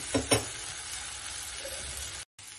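Spice paste frying in a pan for omelette curry, a steady close sizzle with two brief scraping knocks of stirring near the start and a short break near the end.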